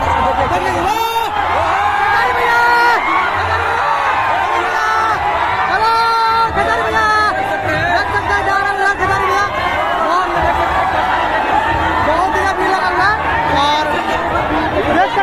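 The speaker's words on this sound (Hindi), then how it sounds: "बहुत ही ज्यादा भीड़ लगा हुआ है" A large, dense crowd packs the streets of Bettiah during a road show for Khesari Lal Yadav, with loud continuous chatter, shouts and whoops close by and all around.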